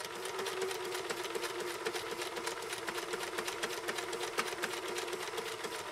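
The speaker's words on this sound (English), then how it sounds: "Let's buzz down with a single line of compressed zigzag stitching on these 2 layers of acrylic fiber." A 1974 Kenmore 1050 sewing machine runs steady compressed zigzag stitching through two layers of acrylic awning fabric, its rapid even needle clatter close and continuous for the whole stretch.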